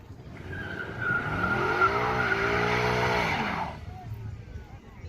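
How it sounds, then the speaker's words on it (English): Burnout at a track car show, tires squealing loudly with a revving engine for about three seconds before the squeal cuts off, leaving crowd murmur behind. "Probably gonna do a little burnout."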